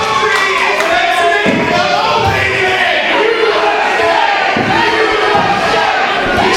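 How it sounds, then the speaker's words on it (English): Capacity wrestling crowd in a packed arena chanting in rhythmic bursts and cheering, loud and continuous, with a few thuds underneath. "This capacity crowd really into the country they live in."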